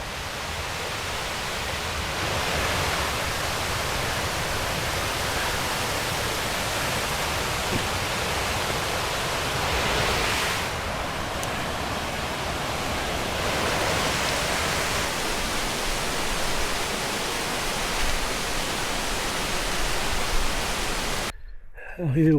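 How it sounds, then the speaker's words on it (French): Mountain waterfalls along a Pyrenees hike near Hospice de France, a constant loud roar of cascading water filling the whole scene, steady and close, with some wind-like swells midway. "Avec pas mal de cascades."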